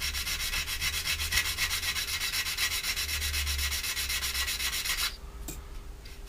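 Steady, continuous abrasive rubbing of sandpaper on the wing of a 1/48 scale plastic model Harrier GR7, close and even, stopping abruptly near the end.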